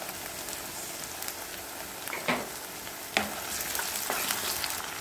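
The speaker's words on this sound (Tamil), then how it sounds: "நல்லா பச்சை மாடை போகிற அளவுக்கு வதக்கிடுங்க." Onion, green chilies and ginger garlic paste being sautéed for prawn kurma, a steady quiet sizzle with a few soft stirring scrapes, no talking.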